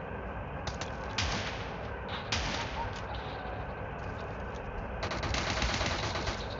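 A gun fires in PUBG Mobile, with a string of sharp cracking shots in short bursts over a steady background hum, moderately loud and without talk.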